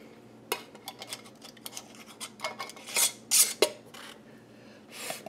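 A fresh metal ring is handled and screwed onto a glass canning jar of parsnips, giving a run of small close metallic clinks, scrapes and rubbing taps that are irregular and quiet, with a few louder bursts near the end.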